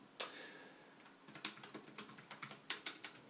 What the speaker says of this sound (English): So I'm just going to type the name in there.